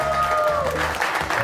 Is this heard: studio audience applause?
yes